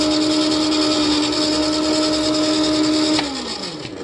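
A grinder shredding scrap plastic roars loudly and steadily with a high, even whine, then its pitch drops as it winds down near the end.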